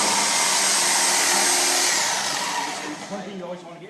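A Sawzall reciprocating saw cuts into a classic truck, a loud, continuous buzzing whine that holds steady before tapering off near the end.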